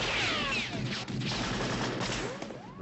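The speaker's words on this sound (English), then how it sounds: "The actual Indiana Jones gunshot was a .30-30 Winchester rifle that was recorded." A recorded .30-30 Winchester rifle shot used as the Indiana Jones gunshot, a loud sharp report with a long ringing, sweeping tail that decays over a few seconds.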